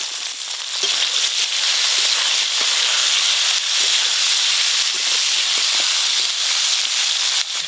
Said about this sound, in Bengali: পেঁয়াজগুলো গরম তেলে একটু হালকা করে নেড়ে নিয়েছি, এবার আদা রসুন দিয়ে দেব।